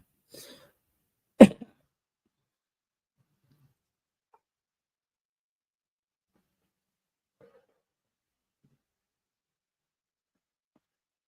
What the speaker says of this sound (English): So no, I decided to cough.